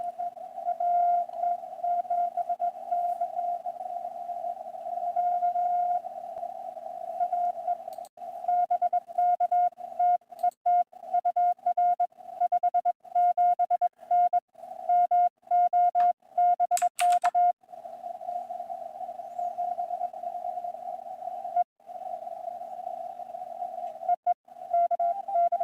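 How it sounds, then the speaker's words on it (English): Amateur radio pileup of many stations calling a Parks on the Air activation at Huntsville State Park, Texas: overlapping Morse code tones keying in a steady stream, faint, with a brief burst of static partway through. "That's what a pileup sounds like."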